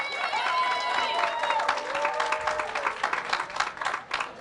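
An audience applauds a performer at a French-language slam poetry show, the clapping steady and fairly close throughout, with a brief sung or held tone and some voices carrying over the claps.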